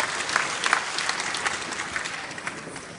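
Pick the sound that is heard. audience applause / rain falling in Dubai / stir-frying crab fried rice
audience applause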